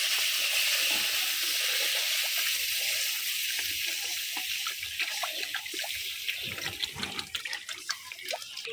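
Water poured into hot oil and ghee with fried semolina, a loud steady rush that thins out into scattered crackling sizzle.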